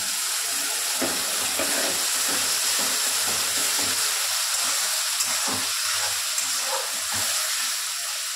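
Tomato and spice masala frying in oil sizzles and hisses steadily after a splash of water goes into the pan, with a few faint stirring knocks and no talking.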